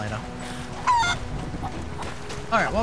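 Chickens in a chicken pen in Rise of the Tomb Raider squawk and honk in a few loud, sharp bursts over low background ambience.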